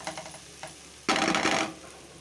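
Chicken pieces stirred in a hot pan with spices, a loud burst of sizzling and frying that swells suddenly and then eases, preceded by softer clicks and scraping.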